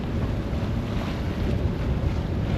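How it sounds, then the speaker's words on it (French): Wind rises over a boat out on the water, a steady loud gusty rush buffeting the microphone, with the low wash of the sea underneath and no voices. "Là, il y a un petit vent qui se lève"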